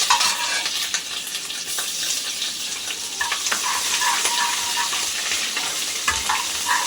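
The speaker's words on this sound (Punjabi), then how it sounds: "ਇਹਦੇ ਵਿੱਚ ਅਦਰਕ ਤੇ ਲਸਣ ਦੀ ਪੇਸਟ" Ginger and garlic paste fries in a pan with a bright, continuous hiss and crackle, close and loud, with occasional soft stirring scrapes and knocks and no speech.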